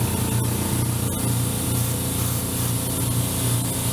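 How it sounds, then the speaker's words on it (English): An air compressor driving an airbrush makes a loud, constant hiss of spraying air that runs without a break, steady and close, with a low mechanical hum underneath. "I turn on the air compressor, because that gets real loud"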